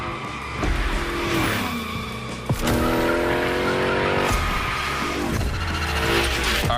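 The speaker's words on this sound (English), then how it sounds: "Let's see how you handled your first slides with the Hoonicorn." The Hoonicorn slides through a Gymkhana run in The Crew Motorfest, its engine roaring loud and continuous while the tires squeal in long skids, with one sharp thump partway and a brief voice near the start.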